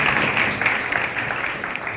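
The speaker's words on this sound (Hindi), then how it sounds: "तालियां बजाइए इनके लिए।" An audience applauds, a dense, steady wash of many hands clapping together that holds at an even level for the full couple of seconds.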